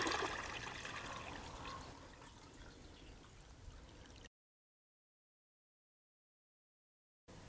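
Fresh cold water poured into a garden bird bath, a steady close trickle and splash that fades, then cuts to silence for about three seconds before resuming briefly at the end.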